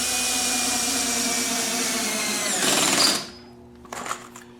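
Impact driver running in impact mode, sinking screws into plywood for a kitchen upper cabinet, a loud continuous rattling hammer that rises briefly before cutting off, followed by a few faint knocks.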